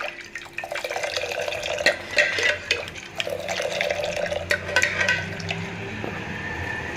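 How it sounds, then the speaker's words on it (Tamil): Hot drumstick leaf (murungai keerai) soup is poured into a bowl, giving a steady close liquid splash and trickle with small drips and clinks for several seconds. No one speaks. "இப்போ ஒரு பவுலில் ஊற்றிக்கலாம் சூடாகிருச்சு"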